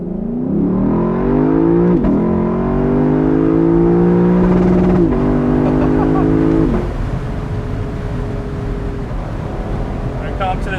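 A 2022 Lexus LC500 engine revs hard under full throttle in manual Sport S Plus mode, its pitch climbing through several gear shifts before easing off into a steady drone.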